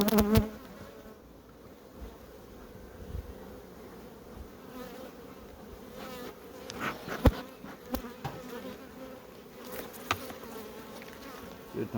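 Honeybees buzzing around a beehive during a summer check of the honey supers, a continuous close drone with a few louder clicks and knocks of hive handling, no speech.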